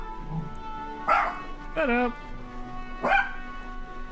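Dogs barking in the online role-playing game Arelith, three short bursts of barks spaced a second or two apart, close and fairly loud, with a voice speaking between them.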